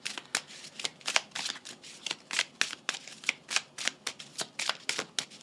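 A deck of tarot cards is shuffled and drawn, giving quick, crisp riffling flicks in an uneven rhythm of close, soft card slaps, with no one speaking.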